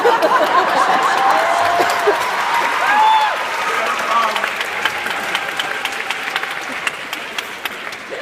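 A live audience at a storytelling convention breaks into loud, sustained applause and cheering, a dense wash of many hands clapping with some laughter mixed in, slowly thinning toward the end.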